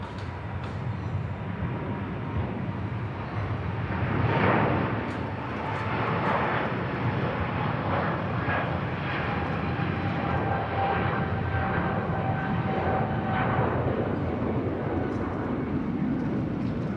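Airliner with GE90 engines passing overhead at Bangkok Suvarnabhumi Airport, a steady, loud jet roar that swells and lingers across the whole stretch with a slight rise and fall, no talk over it.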